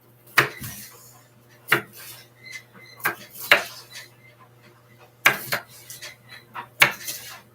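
A knife chops vegetables for vegan scalloped potatoes on a board, with sharp, close, irregular knocks spaced about a second apart, sometimes doubled, over a quiet kitchen hum.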